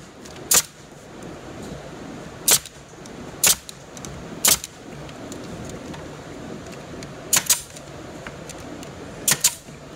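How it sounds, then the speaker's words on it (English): Brad nail gun fastening wood framing pieces for T and corner joints, giving sharp, loud pneumatic shots at uneven intervals, about eight in ten seconds and some in quick pairs, over a quiet room background. "Take your brad gun"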